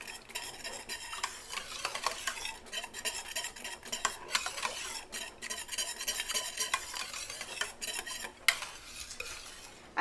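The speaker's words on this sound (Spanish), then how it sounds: "Le vamos a seguir meneando hasta que vuelva a hervir." A utensil stirs champurrado with cinnamon and chocolate in a pot as it heats toward a boil. The scraping and clinking strokes are continuous and close, with a faint bubbling underneath and no voices.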